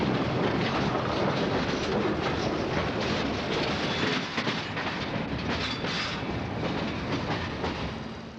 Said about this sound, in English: Coming at us is a westbound South Shore single-car train, rounding the toll road curve in Hammond